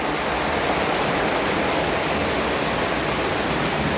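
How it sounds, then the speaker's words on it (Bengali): Heavy rain pouring down outdoors in a village, a broad steady rushing hiss that stays constant and enveloping throughout, without talk. "বৃষ্টিটাও নেমেছে খুব জোরে বৃষ্টি নেমে গেছে"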